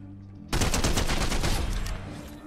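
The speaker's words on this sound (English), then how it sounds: "If he wants to try and get it, I'll shoot him down." Rapid bursts of SMG fire in Fortnite erupt suddenly after a quiet moment, a loud, dense rattling stream of shots that tapers slightly toward the end.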